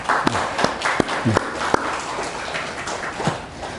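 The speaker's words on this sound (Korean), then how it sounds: "박수로 환영해 주시기 바랍니다" A church congregation at a Sunday service applauds to welcome a guest, a moderate clapping with a few sharp, distinct claps standing out near the listener.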